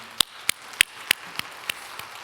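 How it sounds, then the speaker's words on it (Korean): Hands clap in steady rhythm in a church, seven crisp, evenly spaced claps sounding close and distinct against a quiet room, with no voices. "우리 하나님께 감사와 영광의 박수 올려드리겠습니다"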